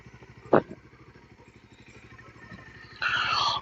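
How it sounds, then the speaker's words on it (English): A motorcycle engine idles with a rapid, steady putter, broken by one sharp burst of revving early on and a second louder rev held near the end; no talking. "I really revved my bike for no logical reason,"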